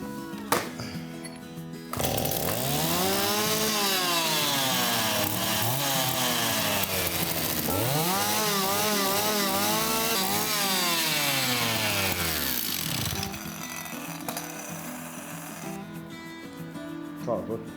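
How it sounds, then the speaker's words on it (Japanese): A chainsaw fitted with a thin Tsumura replacement bar gouges into wood, the engine revving up in long sustained bursts with pitch dips under load, running loud and close with brief idle moments at the start and end. "チェーンソーのバーの細いのでね、こうほじくれんかなと思って"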